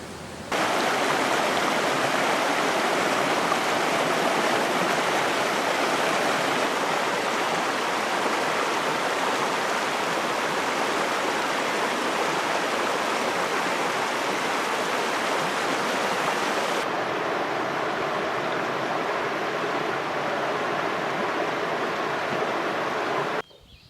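Jack Creek, a clear spring-fed stream in Deschutes National Forest, rushes and babbles steadily, a close, even broadband wash of flowing water with no voices, softening slightly toward the end.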